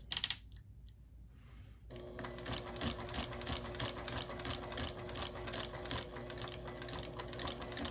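A sewing machine back-stitches over a quilt binding, starting after a few sharp clicks and a quiet pause, then running steadily with a fast, even mechanical chatter close by.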